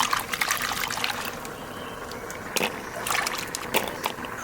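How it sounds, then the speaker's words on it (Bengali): Water splashes and trickles in a kitchen as cut taro pieces are rinsed by hand, a close, busy wash of running and dribbling water with short louder splashes. "একটু ভালো করে ধুয়ে নিই কতগুলো।"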